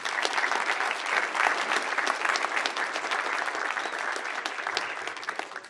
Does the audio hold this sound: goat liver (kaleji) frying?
no